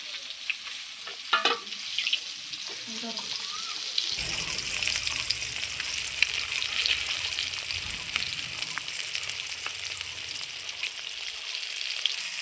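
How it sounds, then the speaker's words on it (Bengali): Fish frying in hot oil for a fish kalia, a steady loud sizzle that sets in after a few seconds of quieter kitchen sounds and carries on without a break. "আমার মাছটা ভাজা হয়ে গেছে"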